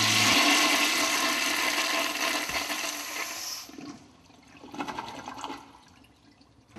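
A water toilet flushes with a loud, rushing gush that drains away, followed by quieter gurgling and refill trickles as the flow dies down, with no talking.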